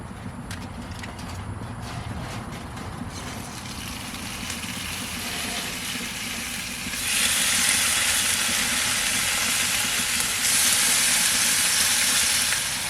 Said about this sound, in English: We're going to go ahead now and cook this bacon.